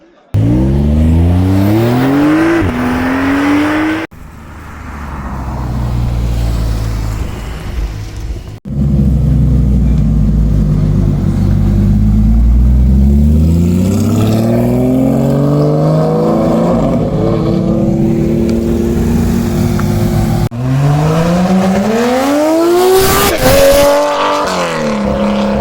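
A Porsche GT3 supercar at a charity car gathering revs hard, its engine climbing and falling in loud close bursts with rising whines, a steady roaring rumble through the middle and sharp cuts between passes.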